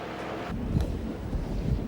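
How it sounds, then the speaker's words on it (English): Wind buffets the microphone outdoors at a site with full-sized wind generators, making a loud, continuous low rumble with gusty swells. "Do you feel the wind in our backs?"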